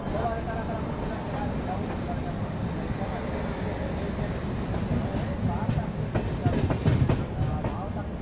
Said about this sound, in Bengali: আমাদের ট্রেনটা জাস্ট নিউ বঙ্গাইগাঁও স্টেশন থেকে ছাড়লো